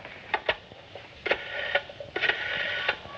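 A telephone is dialed in a 1950s TV drama: a series of short clicks and mechanical ticks at irregular intervals, moderately close, with no talking.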